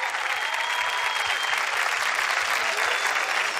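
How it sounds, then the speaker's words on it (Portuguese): Steady, dense applause from a studio audience for a band on a Brazilian TV show, a continuous even wash of clapping that holds at full strength throughout with no voices over it. "uma salva de palmas aqui pra galera aqui"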